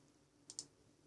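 Two quick, quiet clicks of a computer mouse in close succession, with faint room hiss around them.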